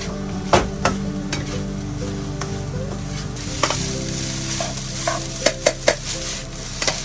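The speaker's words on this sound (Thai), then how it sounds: "น้ำมันหอย พริกไทย นี่ก็ผัด" Shrimp fried rice stir-fried in a wok with oyster sauce and pepper: a steady sizzle runs under repeated scraping and stirring, with several sharp metal clinks of a spatula against the pan near the end.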